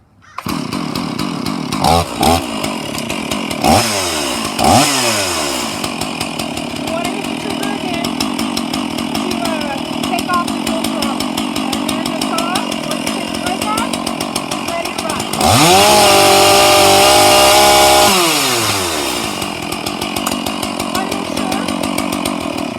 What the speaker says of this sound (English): We're going to go to warm start and we're going to pull again until the saw starts.